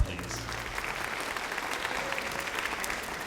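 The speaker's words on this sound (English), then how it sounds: "Another round of applause for him, please." Audience applause at a summer music camp band concert, honoring a trumpet soloist; steady, dense clapping from a sizable crowd, moderately distant, holding level for the whole stretch.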